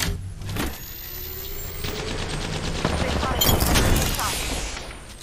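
Gunfire in the Apex Legends video game, a continuous rattle of rapid shots with game effects layered over it, while a character voice speaks briefly.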